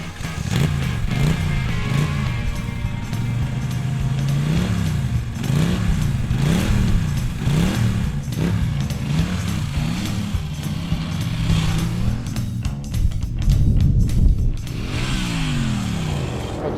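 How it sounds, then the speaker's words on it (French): A Norton Dominator motorcycle rides the Montlhéry circuit, its engine note rising and falling through repeated revving cycles, loud and continuous with a brief surge near the end. "on va le retrouver donc avec la Norton Dominator sur le circuit de Montlhéry"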